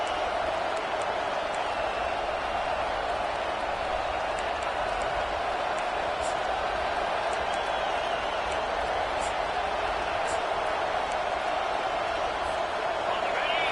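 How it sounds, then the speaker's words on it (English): Dense, steady roar of a packed stadium crowd at an LSU college football game after an overturned ruling, loud and continuous with a broad rumbling wash and no break throughout. "listen to this crowd noise. This stadium is vibrating"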